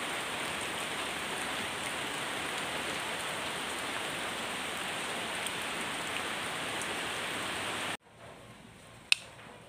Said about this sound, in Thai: วันนี้ฝนตกค่ะไปไหนไม่ได้